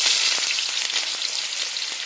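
Onions hit hot oil in a pan for a kheema peas curry, sending up a dense, close sizzle with rapid crackling pops that holds steady throughout, with no talking.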